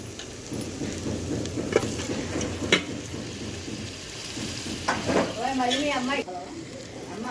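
Gold fish pieces go into frying masala over a wood-fired stove, setting off a crackling, rain-like sizzle while a person talks over it.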